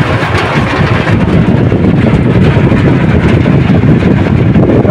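Heavy rain drums on the cabin of a Suzuki Carry, a loud, dense, unbroken roar close to the microphone with no speech over it.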